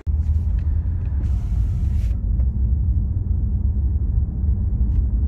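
Interior of a BMW M5 Competition on the move, a loud steady engine and road rumble droning throughout, with a brief high hiss near the start and no voices.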